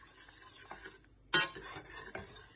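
A spoon stirs lobster sauce in a pot with soft scraping, then one sharp metallic clank against the pot and a quieter knock near the end. The sounds are close and there is no talking.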